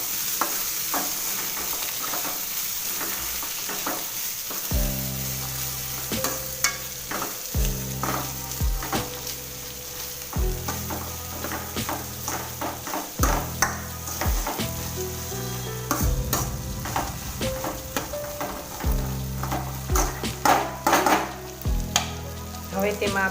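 Sweetcorn frying in a pan for sweetcorn chevdo, a steady close sizzle with repeated scraping and clinking strokes of the stirring spoon against the pan throughout.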